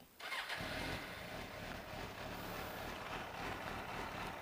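A fuel-injected 2001 Suzuki GSX-R 750 K1 sport motorcycle cranks and fires up almost at once, then settles into a steady, throaty running idle, close by with no voices.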